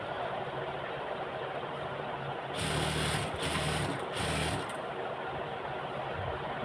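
A sewing machine stitches lace onto a garment sleeve, its motor whirring steadily in the background before rising into three louder, close bursts of rapid stitching, then dropping back to a low hum.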